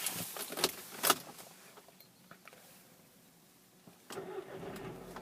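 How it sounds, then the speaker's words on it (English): A Volkswagen Golf GTI with a DSG gearbox starts up: a few light clicks and key rattles come first, then a quiet pause, and near the end the engine fires and settles into a steady idle, heard close with no talking. "looking at the dash whilst we start the car up"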